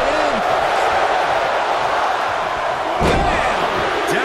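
A wrestler slammed down in a WWE 2K24 Royal Rumble match, a heavy thud against a continuous roaring arena crowd that swells around the impact.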